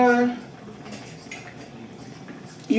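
A utensil stirs chow mein sauce made with dark sugar in a bowl, giving soft scraping and light clinks against the dish, with a louder knock at the start and another near the end, and no talk.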